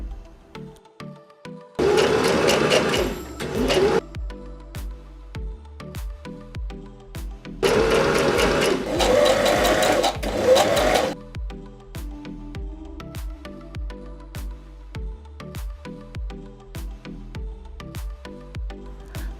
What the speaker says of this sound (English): Now turn the pants over and sewing right along here.